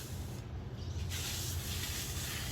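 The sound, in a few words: spraying grape plants in pots with a sprayer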